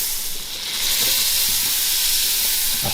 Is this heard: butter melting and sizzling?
yes